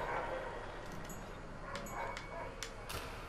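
A dog barks faintly in the background during an Olympic sports video game session, with a few short yips and barks scattered over quiet room noise.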